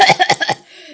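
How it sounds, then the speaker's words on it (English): A quick burst of several short, close coughs in a rapid run, then a breathy fade to quiet. "why'd you cough?"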